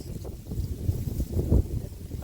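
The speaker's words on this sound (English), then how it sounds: "Quite windy, so I apologize if the sound isn't great." Gusty outdoor wind buffets a microphone in a garden, producing low rumbling bursts that swell and ease throughout the clip, loud and close.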